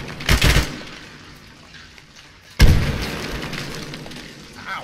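Frag grenade explosions in Arma 3, two heavy booms about two seconds apart, each a sharp loud crack that rolls off into a long fading rumble.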